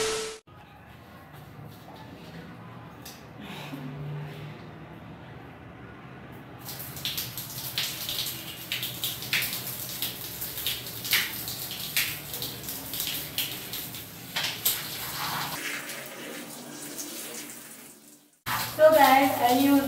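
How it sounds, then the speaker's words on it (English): Water runs steadily from a tap while hair is washed, a hissing rush that grows louder and more turbulent midway and then cuts off near the end. "I'm gonna wash my hair now"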